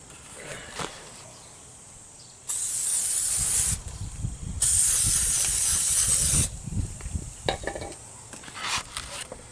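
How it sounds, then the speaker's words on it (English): Two long bursts of aerosol cleaner spray hiss onto the front brake pads of a 2006 Dodge Grand Caravan, each lasting over a second, with quieter clatter and handling noises around them. "you do need to spray those pads off"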